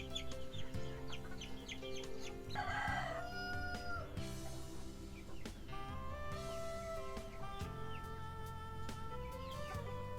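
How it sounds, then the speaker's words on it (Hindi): Two hens and a rooster, fancy birds kept for sale, cluck steadily while the rooster crows over them, a fairly soft, continuous farmyard chorus with no talking. "ये 2 मुर्गियाँ हैं इस तरह की, और एक मुर्गा है।"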